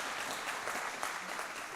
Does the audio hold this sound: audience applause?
yes